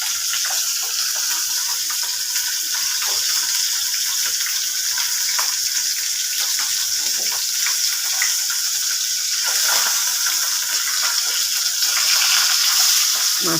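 Rui fish frying in hot oil for a potato curry, giving a steady, close sizzling hiss that runs unbroken throughout with slight swells near the end.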